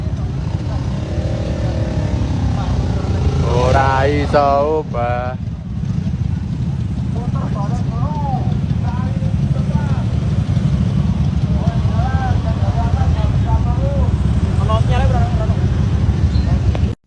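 Motorcycles and cars sit jammed in a street traffic jam, engines droning and idling steadily throughout while several people talk and call out loudly nearby.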